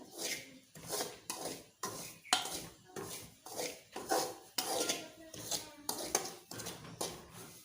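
Semolina (suji) is stirred in a pan for pethe ka halwa, giving a close, steady run of about a dozen rhythmic scraping strokes of a spoon against the metal.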